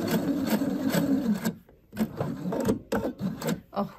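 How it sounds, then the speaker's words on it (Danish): A sewing machine runs a gathering stitch along a fabric ruffle, with bursts of rapid, rhythmic needle chatter that pause briefly and then resume, close and fairly quiet. "Og så syr jeg en rynketråd mere"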